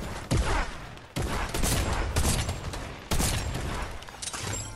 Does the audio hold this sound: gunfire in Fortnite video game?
yes